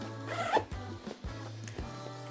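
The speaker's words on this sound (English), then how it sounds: "Fill it up here and then zip it up." Top zipper of an X-Pod bag being zipped shut, a few short rasping pulls close to the mic over a low steady hum, quiet and with no voices.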